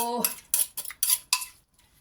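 Som tam is scooped onto a plate with clinks and scrapes of a utensil against dishware, several quick, close bursts in an uneven rhythm with brief pauses and no talk.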